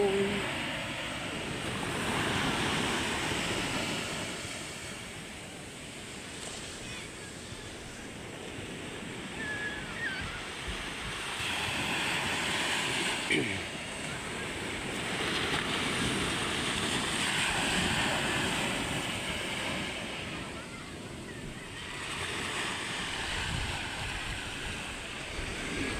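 Steady roar of surf washing ashore with gusting wind buffeting the microphone, swelling and easing in slow waves throughout.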